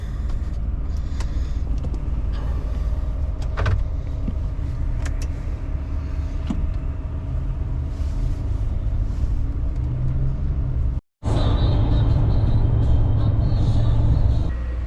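Car cruising on a highway in pre-dawn darkness, a steady loud road rumble and engine drone from inside the cabin, briefly cutting out before resuming.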